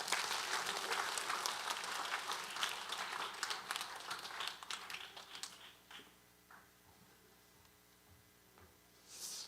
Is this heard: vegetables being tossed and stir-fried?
no